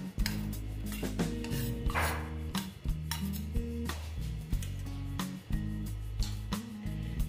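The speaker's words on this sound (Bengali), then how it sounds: "এরপর এখানে দেব এই যে সর্ষে আর পোস্ত যে বেটে রেখেছিলাম, এই সর্ষে আর পোস্তটা আমি দিয়ে দিচ্ছি" Ground mustard and poppy seed paste goes into boiled cabbage with soft scraping and clinking of a utensil against a pot, repeated dull knocks over a steady low background, with no talking.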